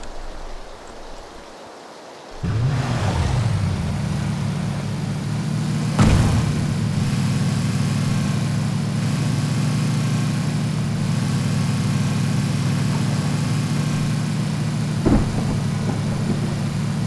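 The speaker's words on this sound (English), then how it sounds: "We'll take the vehicle." Vehicle engine in the battle royale game PUBG, starting with a thump and then droning steadily and loudly at a low pitch with a sharp knock midway, no talking.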